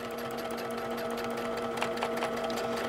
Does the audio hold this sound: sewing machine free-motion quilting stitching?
yes